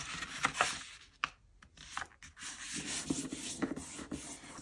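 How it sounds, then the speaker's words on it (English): An old book page is creased and folded by hand, giving close, soft papery rubbing and crinkling with a quieter gap midway before the rustling resumes. "I'm going to fold it there,"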